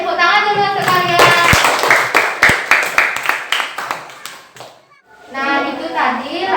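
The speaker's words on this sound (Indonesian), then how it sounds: "tepuk tangan dulu untuk kalian" Children clapping their hands together in a classroom, a burst of sharp, fairly loud claps lasting a few seconds between stretches of singing and voices.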